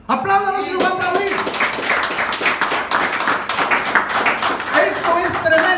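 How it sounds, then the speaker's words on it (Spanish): A church congregation bursts into sustained applause, dense rapid clapping from many hands filling the room at a steady level throughout. "Apláudalo si lo va a aplaudir."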